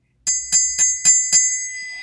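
Five bright, ringing bell strikes in quick, even succession, each ringing clear and metallic, the last tone lingering as it fades.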